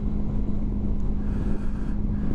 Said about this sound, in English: Been a bit bloody windy